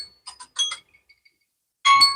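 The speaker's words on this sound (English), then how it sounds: "Why is my alarm going off?" A phone timer alarm chimes in short bright electronic beeps, a few quick clustered tones followed by a pause and a louder final burst, close and clear.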